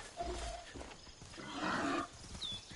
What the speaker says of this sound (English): Oh, look, I found a pig.